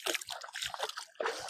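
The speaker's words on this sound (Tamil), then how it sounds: "நம்மளே தண்ணியில அலசுறேன் வாடா" Stone crabs are rinsed in water by hand in a village setting, producing close, quiet sloshing and splashing in short irregular bursts.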